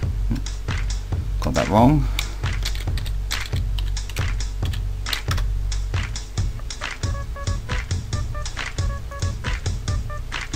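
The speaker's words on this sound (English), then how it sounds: "So if I put my password in now." A password is typed on a computer keyboard as a run of near, crisp key clicks in uneven bursts, with someone speaking briefly near the start.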